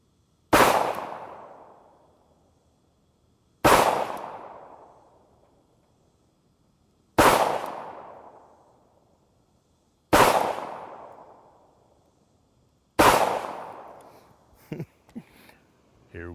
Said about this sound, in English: I've got 5 rounds in the gun. Let's shoot it,